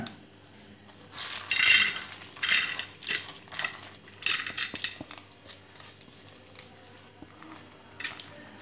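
Washed lentils rattle and scrape against a small pressure cooker in several short bursts of clinking and shuffling, loudest early on and then tapering into scattered softer knocks.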